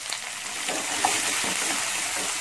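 Finely chopped onion hitting hot oil in a pan while cooking semiya uppumavu, a loud, steady sizzle with a brief stir partway through.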